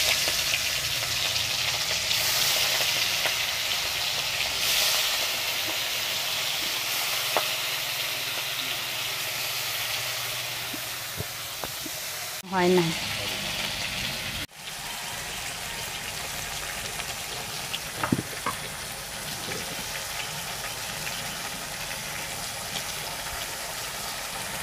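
Shrimp fry in a hot kadai with a steady close sizzle that fades over time, with a couple of knocks and clatters midway and a brief spoken remark.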